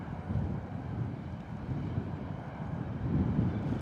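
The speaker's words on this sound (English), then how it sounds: "That wind picking up big time." Strong wind gusting across the airfield at Bristol Airport, a steady low roar buffeting the microphone that swells louder toward the end, with no speech.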